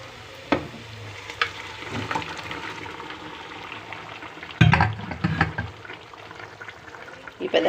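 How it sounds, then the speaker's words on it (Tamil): Mutton frying in oil with masala for a Sunday mutton gravy: a steady, close sizzle with a few louder clatters and splashes as the pan is stirred. "மசாலா நல்லா பொரிஞ்சிச்சு. இப்போ மட்டனை சேர்த்துக்கலாம்."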